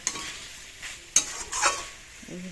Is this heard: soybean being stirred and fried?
yes